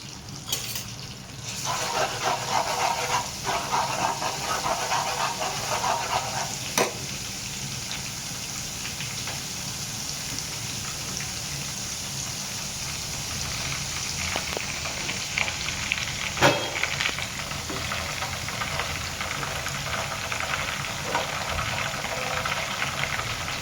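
Crushed garlic sizzling steadily in hot oil in a pan, the start of a dry egg masala, a continuous close frying hiss with small crackles throughout and no talking.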